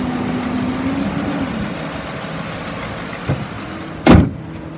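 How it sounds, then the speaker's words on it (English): A 2009 Ford Crown Victoria Police Interceptor with an oil seep, its engine idling in a steady low rumble, followed by a brief clunk and then a sharp loud thump near the end. "Motor sounds good, automatic transmission engages."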